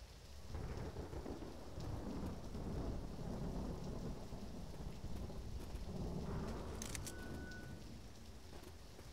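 Steady heavy rain with rolling thunder in Left 4 Dead, a continuous wash of downpour and low rumbles, with a brief high electronic tone late on.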